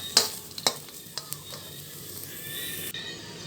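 Food dry-roasting in a home pan, with several sharp scraping stirs and clicks early on over a soft, steady sizzle, then a sudden drop near the end; close and fairly quiet, no speech.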